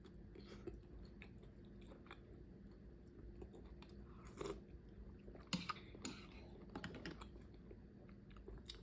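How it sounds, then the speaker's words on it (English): Someone chews a bite of hot, spicy turkey pho up close with soft, quiet, irregular crunches and squishes and no talking. "Try some of that turkey."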